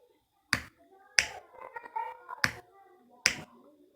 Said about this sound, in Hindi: इसकी ऐसे दबाने पे आपको मैं दिखाता हूँ, टक की आवाज़ आएगी।